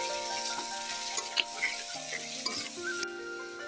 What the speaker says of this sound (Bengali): সরিষার তেল গরম হওয়ার পরে হলুদ লবণ দিয়ে আলু দিয়ে দিলাম ভাজার জন্য